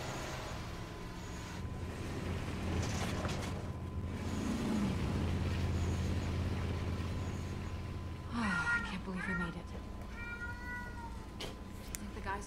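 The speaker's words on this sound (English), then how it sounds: "Apologize, my cat is upset." Upset cat meowing indoors, a few drawn-out, wavering meows toward the end over steady background hum from game audio.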